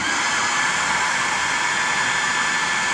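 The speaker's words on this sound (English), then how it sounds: "turning the blower on draws the fire through a lot better" The blower on a live steam Aster pannier tank locomotive draws the fire as steam is raised, a loud, steady rushing hiss that holds unchanged from start to finish, close up and with no talking.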